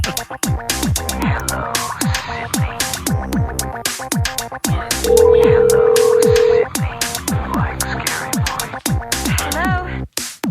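A telephone tone during a call: a loud, steady, unbroken tone holds for about a second and a half over a busy musical background with rhythmic beats.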